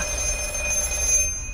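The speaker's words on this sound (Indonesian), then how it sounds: "telepon itu pun kembali berdering" A telephone rings in a tense thriller scene: a steady, continuous electronic ring that sounds alone and fairly loud, then cuts off near the end.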